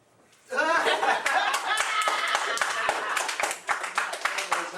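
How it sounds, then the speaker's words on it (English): A crowd breaks into loud, sustained applause, with scattered laughter and chatter mixed into the clapping. "I'm waiting for y'all clap."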